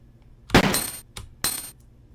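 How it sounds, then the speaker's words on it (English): A pistol gunshot in Resident Evil 2 fired from an aimed stance, a sharp loud crack followed by a second shot about a second later, each with a short bright tail. "I'm going to fire a shot with the aim button held"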